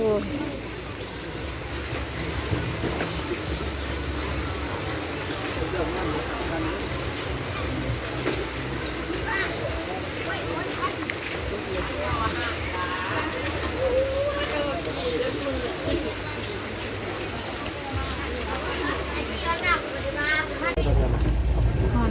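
Rain falls in a soft, steady hiss that fills the background while people talk over it.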